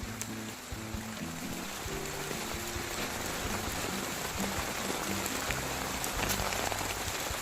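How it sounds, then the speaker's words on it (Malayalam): Heavy monsoon rain falls steadily in darkness in a Kerala village, a dense continuous hiss of drops striking surfaces with a low rumble beneath, even and unbroken throughout with no voices. "ഭയങ്കര മഴ കണ്ടോ."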